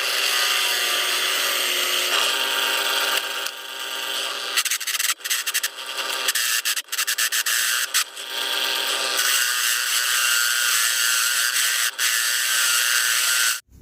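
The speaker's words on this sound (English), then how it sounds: "Let's go hook this up and drill a hole." A power drill bores a hole through steel for a hammer head, a loud, continuous grinding whine close by that shifts in pitch and briefly stutters midway, with no speech.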